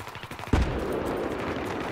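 Gunfire from a gun in a video game: a sudden loud close burst of rapid shots cuts in and keeps rattling to the end.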